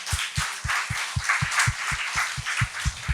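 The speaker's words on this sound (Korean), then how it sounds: "우리 그분 하나님께 영광의 박수 올려드리겠습니다" A church congregation claps along in a steady rhythm of even beats, with a deep thump on each one, as applause offered to God during a Korean sermon.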